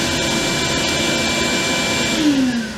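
Belt sander in a woodworking shop spinning down after being switched off, a steady whirring hum that holds, then drops in pitch as the motor slows near the end.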